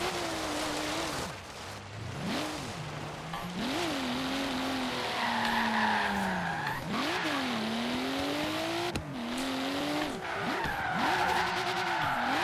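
Drift cars in the Forza Horizon 3 racing game, tyres squealing in long, wavering screeches as engines rev and fall, several skids overlapping loud and close with no pause.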